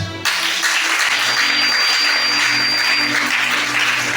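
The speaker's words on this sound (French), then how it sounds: "Acclamons chacun." A church congregation applauds in a loud, dense, continuous wash of clapping that starts abruptly and holds steady, with faint voices underneath.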